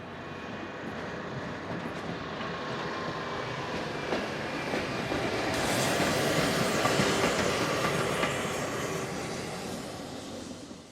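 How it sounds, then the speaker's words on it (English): A locomotive rolls through a railway station, its steady rumble and clickety-clack of spoked wheels swelling to a loud peak near the middle before easing off, with no voices. "As the engine passes by, note the spoked wheels which are common to locomotives in this country."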